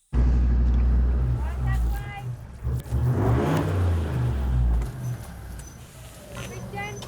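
A Mega 6 4x4 vehicle crawling in low range through a freshly cut soft bush track in Arnhem Land, its engine loud and close, with a surge in the middle and people talking over it.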